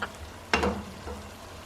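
Cabbage cooks in a pan with water, oyster sauce and sesame oil for Cantonese-style pan-fried noodles: a steady low sizzle with one sharp stirring clatter partway through, no voices.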